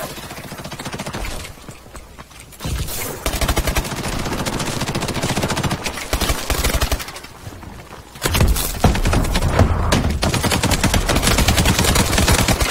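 Dense bursts of automatic gunfire in the video game Call of Duty: Advanced Warfare, loud and sustained with brief lulls, heavy rattling volleys filling the scene.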